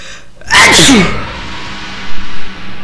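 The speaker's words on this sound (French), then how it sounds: "Alors, je vais éternuer." A single loud, sharp sneeze bursts out close by, followed by a quiet pause and a brief sniffle or breath.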